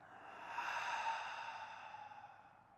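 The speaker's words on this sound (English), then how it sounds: "Take a big, deep breath in. Let it out." A single slow, deep exhale during a yoga session, soft and close, swelling and fading over a couple of seconds with no talk.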